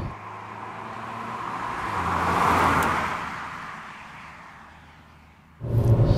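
A Mk1 Ford Focus engine held at about 3,000 RPM in fourth gear, heard from inside the car as a steady, moderately loud drone and road rumble that swells slightly, then rises again near the end.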